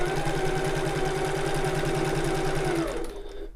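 Sewing machine stitching around a bag gusset in one steady, rapid run of needle strokes, close and loud, stopping abruptly near the end.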